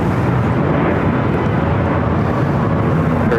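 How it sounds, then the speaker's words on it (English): Airbus A380 airliner at LAX, a loud, steady broadband jet roar with deep rumble that stays constant, close and dominant for the whole moment without voices. "now we have our next A380"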